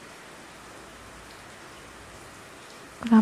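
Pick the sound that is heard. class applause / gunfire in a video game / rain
rain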